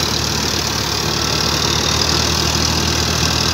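A tractor engine runs steadily as the tractor pulls itself free, a continuous loud mid-pitched rumble with a low throb and no pauses, close to the listener.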